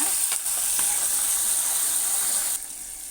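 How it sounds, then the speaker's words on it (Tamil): Curry leaves and coriander sauté in a hot pan of oil for a sundakkai vathal kuzhambu, giving a loud, steady close-up sizzle with a couple of faint clinks and no voices. "நம்ம இப்போ கருவேப்பிலையும் கொத்தமல்லியும் போட்டுக்கலாம். இதையும் சேர்த்து நல்லா வதக்குங்க."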